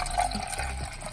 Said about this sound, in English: Pour the water until you see the water is coming out of that